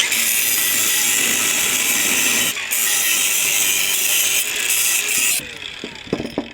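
A power saw cuts through a steel steering shaft near the universal-joint position, giving a loud continuous high-pitched grinding whine that briefly dips and then stops, followed by a few scattered clicks and clunks.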